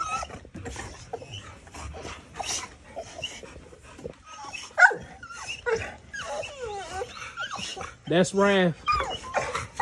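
American Bully dog whimpers, pants and lets out a few yips and short barks, close to the microphone, while people talk over it.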